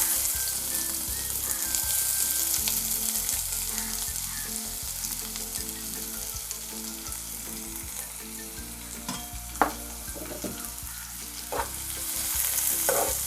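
Chopped onion sizzles in hot oil with cumin seeds, a steady close crackle of frying with occasional stirring scrapes and small pops, no talk.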